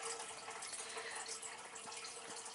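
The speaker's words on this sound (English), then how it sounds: "the water in the background, that's from the filter of my turtle tank" Steady broadband water noise from a turtle tank filter, a constant running trickle that stays even and unbroken throughout, fairly quiet and heard alone.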